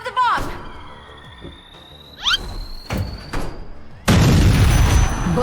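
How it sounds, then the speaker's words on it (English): A bomb detonating in the co-op video game Split Fiction, a sudden loud roaring blast near the end after squealing effects, whooshes and thuds, with voices faintly under the game sounds. "Dump the bomb!"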